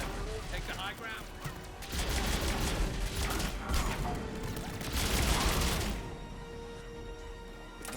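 Rapid bursts of gunfire from a favourite weapon in the video game Mass Effect 3 during a firefight. The volleys are dense and sustained, swelling in the middle and trailing off, and a voice talks over parts of them.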